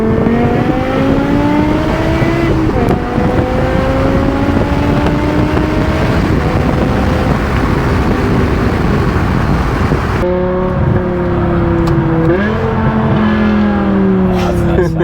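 A BMW M6 with a V10 engine and F1-style exhaust revs loudly and steadily, its rising and falling engine tones running throughout, with people talking over it and wind buffeting the microphone.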